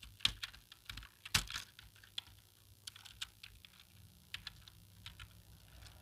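Rapid, irregular clatter of keys on a computer keyboard during a two-minute typing speed test, with a few sharper, louder strokes; close and quiet, with no voices.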